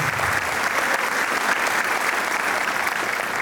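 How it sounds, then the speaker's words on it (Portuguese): Audience at a live book launch clapping steadily, a dense, even round of applause from many hands that holds at the same level throughout. "vocês que bateram palma agora"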